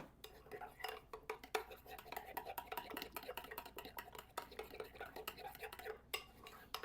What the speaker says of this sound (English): we're just going to mix that up to make our dressing